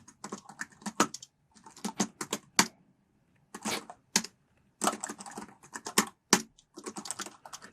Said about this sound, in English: So let me quickly click on duplicate 7 times to duplicate this.